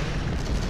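Loud, dense video game gunfire blast, a continuous booming roar filling the whole short moment with no gaps or talk.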